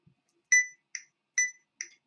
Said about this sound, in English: So that's your click, beep, click.